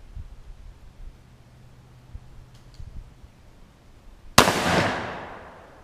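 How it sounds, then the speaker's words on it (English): A single loud blast from a Remington 870 pump shotgun fitted with a choke, fired outdoors in a backyard, ringing out sharply after quiet and then decaying over about a second. "I love this shotgun. It's a Remington 870."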